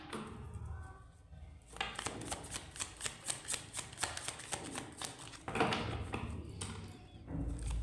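Tarot cards are shuffled by hand in a quick series of riffling flicks with a steady rhythm. The sound is close and fairly soft, with a short pause partway through.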